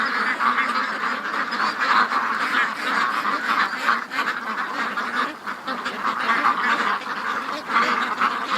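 Ducks in a morning pen keep up a dense, loud chorus of overlapping quacks, with no break across the stretch.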